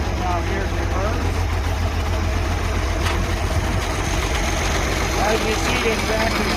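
An International 666 tractor engine idles with a deep, steady rumble close by for several seconds, with faint gear-shifting clunks and a voice talking in the background.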